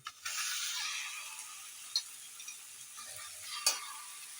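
Close, steady sizzling of fish frying in oil on a hot tawa griddle, with a few brief clinks and taps over the hiss.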